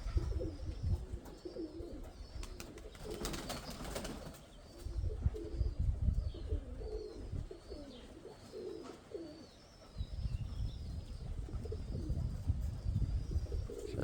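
Repeated soft, throaty cooing of pigeons in rolling phrases, close by, with bursts of wind or fluttering noise between calls on a windy day.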